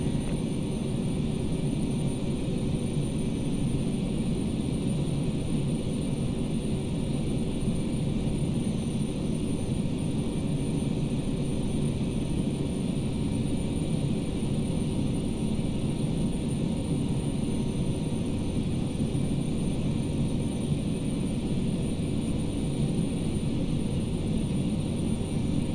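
Twin turboprop engines of a Flybe Saab 340 cruising in Microsoft Flight Simulator X, a loud, steady cabin drone with a low rumble and constant hum that holds unchanged the whole time, with no voices.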